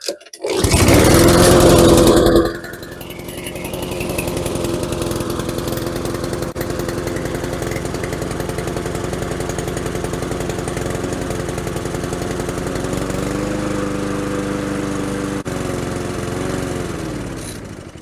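MTD self-propelled lawn mower with a Honda engine, fuel line shut off, revving loudly at first, then settling into a steady close drone that runs on until it starts to sag near the end.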